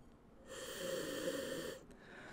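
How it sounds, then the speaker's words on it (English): A person takes one long, strong sniff of a beer brewed with orange, drawing in a steady breathy hiss for over a second, close and fairly faint, with quiet room tone on either side. "Yeah, that's a good sniff."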